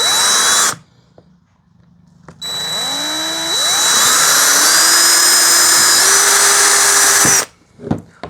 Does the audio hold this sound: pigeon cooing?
no